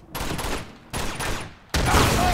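Gunfire in Uncharted 2: Among Thieves: three abrupt bursts of loud, crackling shots, each cutting off sharply, with a short gap between them and the last burst the loudest.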